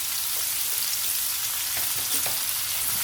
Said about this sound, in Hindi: अब इसमें डालेंगे हम आलू, जो कि हमने धो के रखे हैं। अब इन आलूओं में हम पहले थोड़ा सा नमक ऐड कर देंगे